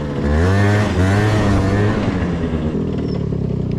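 A 50cc scooter engine revs as it is ridden, with a loud buzzing drone whose pitch rises and falls in quick sweeps before settling into a steady run.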